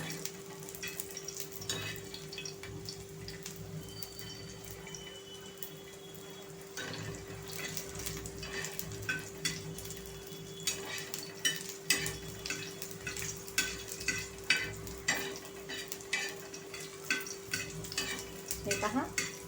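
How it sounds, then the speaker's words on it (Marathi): Garlic frying in a pan sizzles steadily with a dense, crackling hiss, punctuated by scraping and stirring noises and a constant low hum throughout. "असा लालसर असा लसूण फ्राय करून घ्यायचा आहे"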